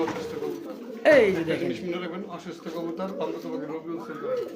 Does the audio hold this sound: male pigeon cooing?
yes